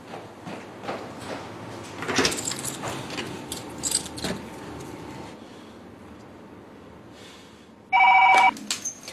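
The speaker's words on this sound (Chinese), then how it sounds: "我现在就去给滕中官打电话" Quiet indoor rustling and a few door-like clunks give way to a loud, brief electronic telephone ring near the end as a call is placed.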